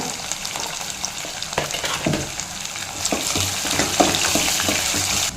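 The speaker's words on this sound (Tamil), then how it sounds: "இப்போ வெங்காயம் ஒரு பாதி அளவுக்கு வதங்கினா போதுங்க" Sliced onions and green chillies sautéing in a pan, a constant close sizzle broken by spatula stirs and scrapes, growing slightly louder toward the end, without speech.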